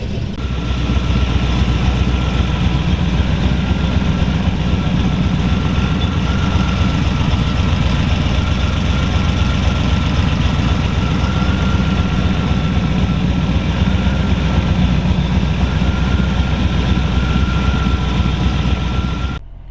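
A 1932 Ford hi-boy roadster with a supercharged 265 cubic-inch flathead engine runs steadily, a loud, close, unbroken low rumble lasting about twenty seconds before cutting off abruptly.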